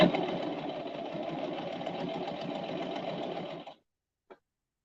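Brother 1034DX serger stitching hats and scrunchies, a fast continuous mechanical whirring hum that runs steadily for several seconds, then stops abruptly, followed by a single small click in the silence.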